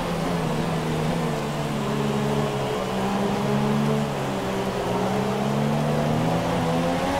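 Heavy rain on the Baku street circuit in the F1 2017 racing game, a steady wet hiss over which a car engine's droning, slowly rising and falling pitch runs continuously.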